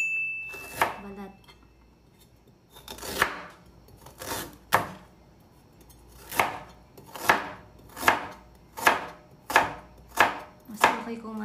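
A knife chops an onion on a cutting board in a home kitchen, ten or so sharp, evenly spaced strikes ringing out close and clear after a few scattered cuts.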